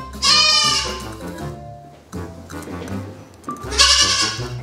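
Pet goat kept indoors gives loud, close bleats, a long wavering cry at the start and another near the end, with softer rough vocal sounds between.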